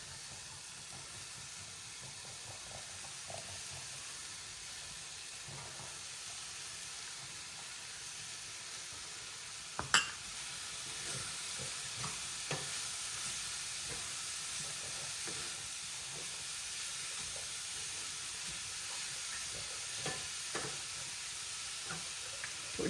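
Broccoli and mixed vegetables cooking in a pan, a faint steady sizzle and hiss with occasional soft stirring scrapes and one sharper knock, no talking.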